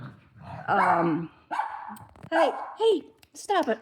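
Several dogs at home bark and growl close by in repeated loud bursts, a short sharp yap among them, while a person briefly speaks over the noise.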